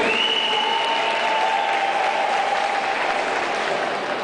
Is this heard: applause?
yes